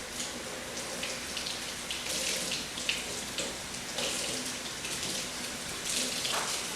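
Cauliflower head rinsed under a running kitchen tap, a steady splashing stream with shifting spatters as the florets are turned, close and without talk.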